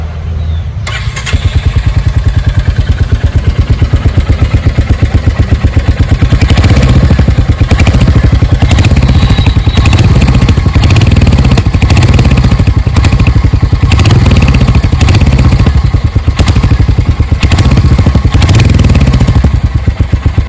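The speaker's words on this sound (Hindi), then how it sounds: "चलिए एक बार इसकी साउंड भी देख ही लेते हैं" Royal Enfield Hunter 350 motorcycle engine starts and runs close up, a loud, continuous thumping single-cylinder idle with a steady pulsing beat that holds throughout.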